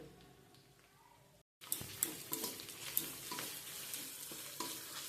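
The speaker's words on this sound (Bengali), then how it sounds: "আদা আর রসুনের কাঁচা গন্ধটা চলে যাওয়া পর্যন্ত হালকা আমি একটু ভেজে নিচ্ছি" Spices with turmeric and chili powder fried in a pan with ginger and garlic for a cauliflower-potato curry: after a brief gap, steady close sizzling with intermittent stirring scrapes, continuing throughout without talk.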